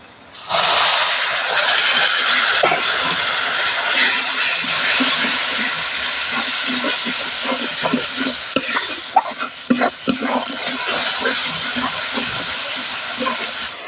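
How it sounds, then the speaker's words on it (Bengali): Onion, garlic, ginger and ground spices with cumin, chilli, coriander, salt, turmeric and a splash of water frying in a pan for a crab curry: a loud, steady close hiss and sizzle throughout, with occasional stirring scrapes, no voices. "জিরে গুঁড়ো শুকনো ঝালে গুঁড়ো ধনে লবণ হলুদ দিয়ে সামান্য একটু জল দিয়ে মশলাটা এবার সুন্দর করে কষিয়ে নেব"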